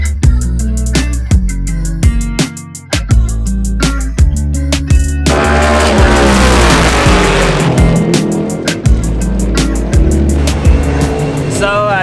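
NASCAR Next Gen race car lapping a track, its engine roaring loud and close, revving up repeatedly through gearshifts, then holding a sustained high-pitched howl at speed.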